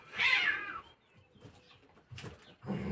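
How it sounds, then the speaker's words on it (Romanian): Cats fighting produce one loud, harsh yowling screech at the start, followed by quieter scuffling and short growling bursts at close range. "aici pisicii astea se bată."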